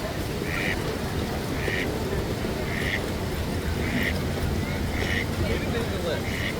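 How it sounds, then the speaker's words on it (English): A hybrid mallard duck quacks repeatedly in a steady rhythm, about six short calls over a constant wash of background noise like running water or rain, moderately near. "This duck has a lot to say. He's been quacking for a long time."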